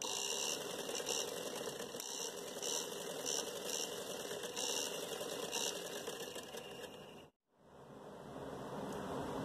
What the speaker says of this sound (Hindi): ये देखें इस तरीके से खींच के मैं सिलाई कर रही हूँ